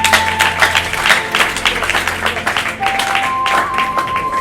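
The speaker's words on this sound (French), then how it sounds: "Des acclamations pour le roi des rois." A church or hall crowd keeps up dense, steady applause with voices mixed in, loud and continuous throughout, with a sustained tone sounding beneath.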